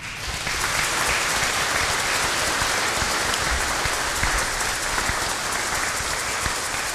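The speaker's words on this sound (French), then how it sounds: "j'aimerais vraiment qu'on puisse les applaudir déjà" A large audience applauding teams at a gathering, dense and even clapping that starts abruptly and holds loud for several seconds, with no talking.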